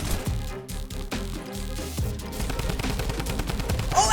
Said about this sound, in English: you cannot stop the power of the Brutus minigun